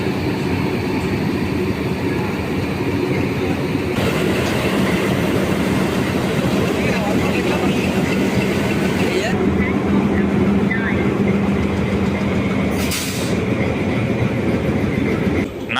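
Diesel locomotive hauling the Bodi Nayakanur superfast express from Madurai, a loud continuous rumble with rhythmic wheel clatter as the train rolls along, heard from inside a coach.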